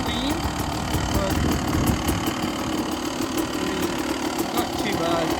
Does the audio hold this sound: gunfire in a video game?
no